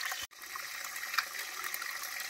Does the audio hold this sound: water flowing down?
yes